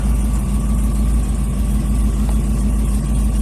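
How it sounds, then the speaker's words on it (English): Custom 1970 Chevrolet Chevelle SS convertible fitted with an LS3 V8, idling with a steady, deep exhaust rumble heard up close, even and unbroken throughout. "We get just a little exhaust out now. What a rumble."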